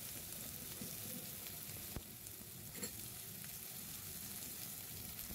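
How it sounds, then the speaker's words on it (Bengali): Potatoes frying in a pan with cumin over lowered gas, a steady broadband sizzle holding evenly throughout with a couple of soft clicks, fairly quiet and with no voices. "খুব ভালো করে ভেজে, একটু গ্যাসটা কমিয়ে ভাজলে আলুটা সেদ্ধ হয়ে যাবে তাড়াতাড়ি।"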